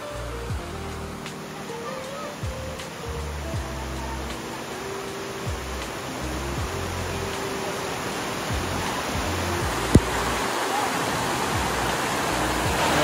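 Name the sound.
mountain stream flowing after heavy May rain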